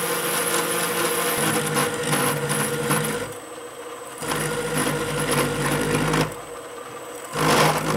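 Metal lathe turning a Damascus steel ring blank lubricated with WD-40, a steady loud cutting whir that drops off briefly twice and resumes, close and continuous with no talk.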